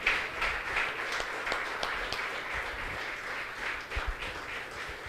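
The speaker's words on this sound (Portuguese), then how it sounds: "Mais palmas para Jesus, nosso Deus," A church congregation applauds, with dense sustained clapping from many hands that carries on steadily throughout and no spoken voices.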